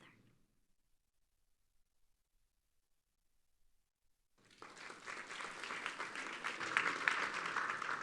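An audience applauds at a spirituality talk at Princeton University, the clapping starting abruptly after a few seconds of near silence and swelling into a dense, steady ovation.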